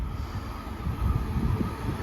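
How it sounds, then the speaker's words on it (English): A London Underground Central Line train arriving, a low rumbling roll with a faint high whine above it, swelling slightly louder midway and holding steady without voices. "here's my Central Line train"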